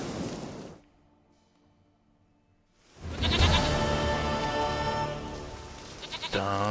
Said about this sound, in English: Goat of mine, dearest, sweetest goat. It's a goat, man.